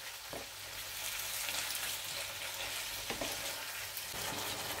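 Kidneys sizzle steadily in a pan with onion and garlic for Spanish sherry kidneys. The frying is a constant close hiss, with a few soft utensil knocks turning them over.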